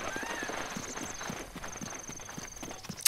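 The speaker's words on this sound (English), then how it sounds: "Oh, horses." Horse hooves clip-clop in a steady walking rhythm in The Legend of Zelda, fairly close and moderate in level, with a faint tonal hum in the background and a short sharp sound at the end.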